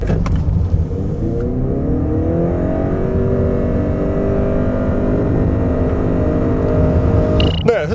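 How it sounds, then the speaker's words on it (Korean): A 2018 Honda Accord Hybrid accelerating at full power, its engine drone rising steadily and loudly for several seconds from inside the cabin, ending with a brief squeal-like whine. "여기서 잠시 업코드 하이브리드의 가속 성능에 대해서 알아볼까요?"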